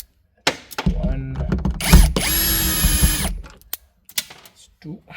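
A power driver backs screws out of parts on a VW Passat R36 wiring harness, giving a short loud whirring burst followed by clunks and ratcheting clicks nearby.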